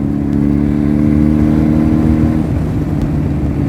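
A Benelli 300 sport motorcycle engine running close by, a loud steady mid-pitched drone that holds for a few seconds, then eases down slightly.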